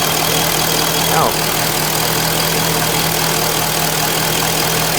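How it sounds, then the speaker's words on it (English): A 2005 Corvette engine, earlier troubled by lean codes, idles smoothly with a steady, even, close hum that holds throughout, apart from a slight bump just past the first second. "it's a lot smoother now running at idle"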